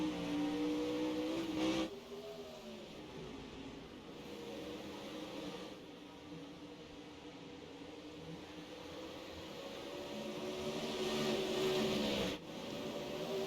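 Late model race cars circle Oswego Speedway, a steady roar of several engines that swells and fades as the pack passes, with rising revs near the end and no one talking.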